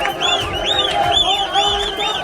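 A crowd of protesters in the streets of Baghdad, a loud, dense mass of voices chanting and shouting together in rising and falling waves, nearby and continuous.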